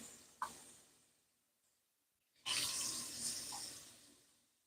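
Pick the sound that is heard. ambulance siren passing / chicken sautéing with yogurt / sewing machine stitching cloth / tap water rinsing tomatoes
tap water rinsing tomatoes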